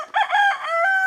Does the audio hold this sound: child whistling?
no